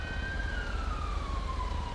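Police car siren in the game GTA V with the LSPDFR mod, a loud steady wail sweeping slowly downward over a low rumbling engine hum.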